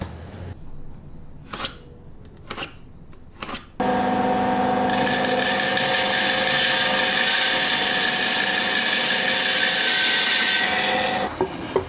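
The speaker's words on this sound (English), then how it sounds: "I just need to cut some stuff on the bandsaw." A bandsaw cuts through wood in a loud, steady, continuous roar of about eight seconds, preceded by a few sharp clicks and knocks from the workshop.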